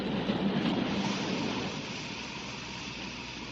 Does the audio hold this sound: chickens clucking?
no